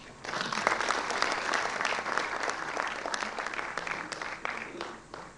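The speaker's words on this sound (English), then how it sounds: "A big round of applause for our today's chief guest, Shri Prashant Ji Jain." Enthusiastic audience applause fills a hostel opening event in East Andheri, a dense, steady clapping that starts abruptly and carries on for several seconds without pause.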